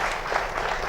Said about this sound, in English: a big round of applause to the panelists